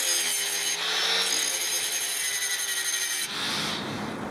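A hand file is drawn over a steel chef's knife blade, giving a continuous, close, fairly loud rasping scrape that shifts tone slightly after about three seconds, with no talking.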